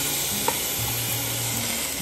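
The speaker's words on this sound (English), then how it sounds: "Next, let's add 1 pound of ground beef." Ground beef, partly frozen, sizzling in olive oil in a deep stew pot makes a steady, close frying hiss with a single brief clink and a low hum, and no voices.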